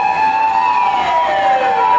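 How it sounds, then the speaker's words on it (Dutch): An ambulance siren wails loud and close while passing through a busy crowd, its sustained two-tone sweep sliding downward in pitch as the vehicle moves past. "er moet gewoon een ambulance, er moet gewoon hier langs"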